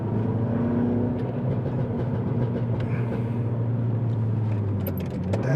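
A modified Mini F56 JCW with KW coilovers drones steadily and loudly, the engine note holding a sustained low rumble with slight rises, no voices over it.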